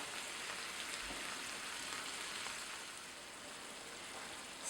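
Ground meat frying in a pan for soboro-don, cooking down until its water evaporates, gives a steady, quiet, continuous sizzle with no breaks and no voices.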